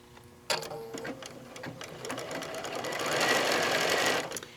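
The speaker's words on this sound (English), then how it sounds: "And we're going to seam down." A sewing machine stitching a quilt seam of layer-cake fabric blocks, starting with a sharp onset and then running steadily and fairly loudly, speeding up toward the end before stopping.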